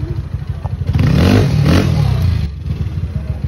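Yamaha NMAX 195cc scooter engine blipped with the throttle, a close, loud rev that rises and holds for about a second and a half before dropping back to a rough, clattery idle.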